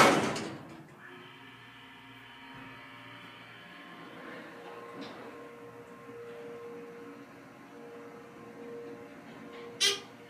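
The slow doors of a 2001 Security hydraulic elevator slide shut with a soft mechanical hum and a low steady drone, ending in a faint clunk near the end.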